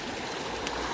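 A stream of water flowing steadily near a ghost town, a continuous broadband rush and trickle heard up close with no voices.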